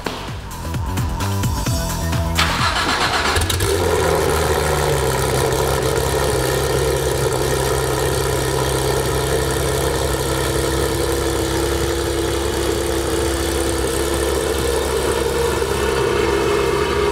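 Porsche 991.2 GT3 flat-six fitted with a Dundon air intake cranks briefly, fires up, then settles into a steady, loud, close idle with a constant whirring drone and no talking.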